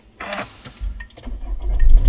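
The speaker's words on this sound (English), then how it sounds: "I'm gonna ignite the car on. So start the engine." A Renault car engine is started from inside the cabin: a brief clicking crank followed by the engine catching and settling into a rising, low idle rumble.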